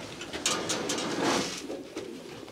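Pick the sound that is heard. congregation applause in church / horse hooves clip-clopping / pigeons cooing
pigeons cooing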